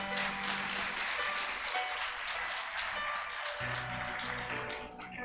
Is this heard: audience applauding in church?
yes